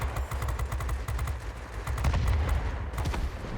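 Machine guns on a Beaufighter heavy fighter firing in the World of Warplanes game, a dense rapid stream of gunfire that rattles steadily with no break.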